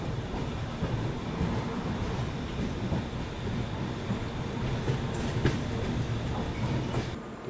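Swatantra Senani Express rumbling along at a quiet, nearly deserted Chhapra Kachahri station as it prepares to stop, a steady continuous train drone with faint wheel and carriage clatter, close and fairly loud throughout.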